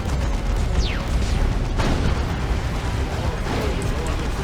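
Heavy cannon fire and explosions from an Executioner tank shredding a Predator tank in a Dawn of War 2 Retribution match, a dense continuous din of booms and sharp shot streaks, with a commentator talking over it.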